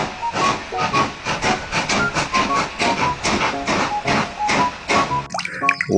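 Toy train sound effect with a hissing steam burst and repeated short whistle-like tones in a busy, rhythmic loop, loud and close, ending in a brief different jingle.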